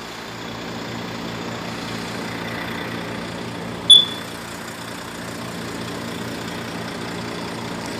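A Volvo 440 car engine idles with a steady, even low rumble, heard close and unchanging, with one brief high beep partway through.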